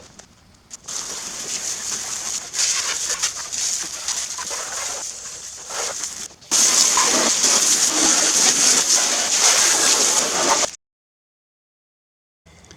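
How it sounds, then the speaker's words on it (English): Water sprays hard to wash mud off a Poulan riding mower, making a loud, steady hiss that swells partway through and then cuts off suddenly near the end. "I'm gonna wash this mud off before it dries."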